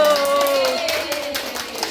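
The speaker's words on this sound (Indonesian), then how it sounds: "Tepuk tangan." Church choir members clap their hands together in a brief burst of applause, moderately loud and overlapping with a faint whistle-like tone and a voice at the start.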